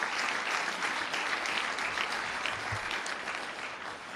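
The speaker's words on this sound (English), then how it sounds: "Give that big a round of applause for all of that hard work for the team pulling it back together" Crowd at a county address giving a sustained round of applause, dense even clapping that holds steady and tapers slightly at the end.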